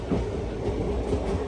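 An express train of the Tirupati to Bilaspur Weekly Express, cruising near 110 km/h, runs through Gajapathinagaram station without stopping, giving a continuous loud rumbling roar with faint rhythmic rattling throughout.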